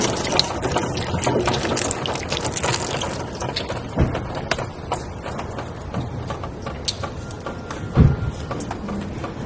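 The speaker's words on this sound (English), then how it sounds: "And now we'll see what it's like when we pour water on it." Water poured over a car headlight splashes and trickles steadily against the plastic lens, close up, with a few small knocks and clicks in the mix and no talking.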